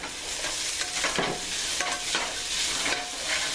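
A spoon stirs oregano, garlic, parsley and basil into a simmering sausage stew, with repeated scraping strokes over a steady, close sizzle.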